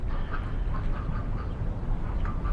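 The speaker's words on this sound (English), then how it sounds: "I like watching the ducks." Ducks at a pond quack repeatedly over a dense rumbling ambient background, the calls moderately loud and overlapping at a steady pace.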